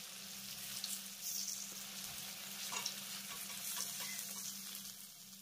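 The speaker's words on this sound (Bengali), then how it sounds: "একই রকম ভাবে পনিরের অপর পাশটাকেও আমি ভেজে নিয়েছি। এবার আমি পনিরগুলোকে গরম তেল থেকে তুলে নেব।" Cauliflower-based paneer pieces fry in hot oil with a faint, continuous crackling sizzle and occasional soft stirring or turning sounds, low in level with no talking.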